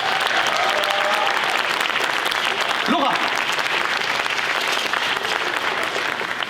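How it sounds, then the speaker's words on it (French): A large arena audience at a mentalism show gives thunderous applause as a volunteer comes on stage, loud sustained clapping throughout, with a brief spoken name partway through. "vous pourrez lui réserver le meilleur des accueils avec un tonnerre d'applaudissements, s'il vous plaît"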